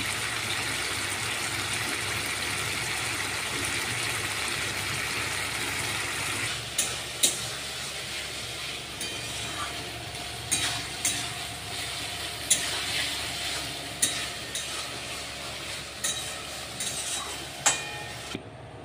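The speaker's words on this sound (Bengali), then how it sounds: "অল্প জল দিয়ে দিয়েছি, এখন এটা ফুটে গেলে আমি নামিয়ে নেব।" Katla fish curry with a little water simmering in a pan, a steady bubbling hiss broken in the second half by a series of sharp clicks and knocks, with no voices.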